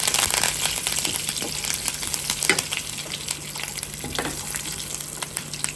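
Curry leaves crackling and sizzling in hot oil with spices for a soya chunk and cashew masala curry, a steady close frying hiss with scattered sharp pops and occasional stirring, no voices.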